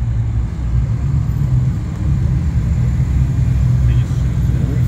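Cars at an outdoor supercar show, including a Rolls-Royce and a BMW, a loud steady engine rumble of vehicles rolling past close by, with the low drone filling the whole stretch.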